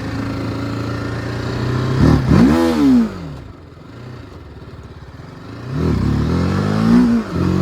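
A motorcycle engine, an R15 or Apache sport bike, idles steadily close by, then revs up sharply twice with rising and falling pitch between stretches of idling.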